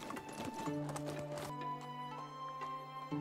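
Horse hooves clip-clop on the ground in the medieval game Medieval Dynasty, a quick run of close, evenly loud steps joined by the horse's whinny and a held musical tone.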